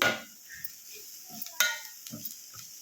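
Chopped coriander fries in oil in a pan for a village-style egg curry. A spoon stirs with intermittent clinks and scrapes against the metal over a faint, soft sizzle, close by and with no talking.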